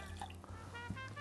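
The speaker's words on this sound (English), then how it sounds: "One ounce of a diet cranberry juice. This is Ocean Spray Diet Cranberry." Ocean Spray diet cranberry juice pours briefly into a measuring cup for a low-carb purple margarita, a short, close liquid trickle and splash.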